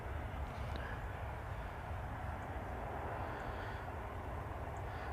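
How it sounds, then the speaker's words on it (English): At an airport, a Gulf Air airliner taxis out as a faint, steady low engine rumble and hum in the distance, continuous and even throughout. "Gulf Air's taxiing out as well"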